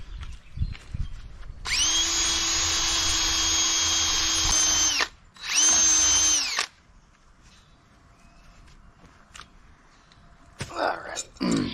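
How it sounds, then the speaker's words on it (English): Drill spinning a wire wheel to strip old bottom paint from rudder threads on a 1962 Tahiti Ketch boat, a loud, steady high whine in two bursts of about three seconds and one second, then quieter handling noises. "I'm gonna go get a wire wheel and a drill and just get that crap off of there"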